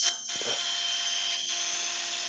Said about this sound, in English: Oh, so this is a power drill.